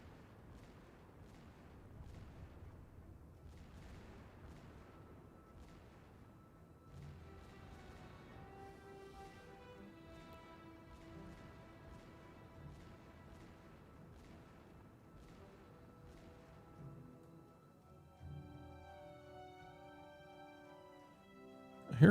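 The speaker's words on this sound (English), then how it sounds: "I hear gunfire." Naval gunfire in the Task Force Admiral game rumbles on as a steady series of distant, muffled gun reports, with heavy cruisers in a surface gunnery duel. Some tonal game sound joins in, and a sharp loud burst closes the stretch.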